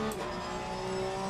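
Steady engine drone of a Porsche 992 GT3 Cup race car in Assetto Corsa Competizione, a sustained tonal hum at constant pitch, heard briefly and fairly quiet.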